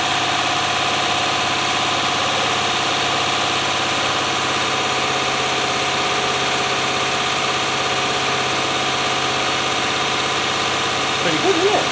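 A 1997 Land Rover Discovery 1 engine idles, with no coolant circulating, giving a close, steady, even drone and rumble that holds unchanged throughout.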